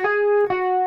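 Two quick picked notes from the second guitar part of a song, played on EVH gear, each note ringing out cleanly and sustaining close and loud with no voices.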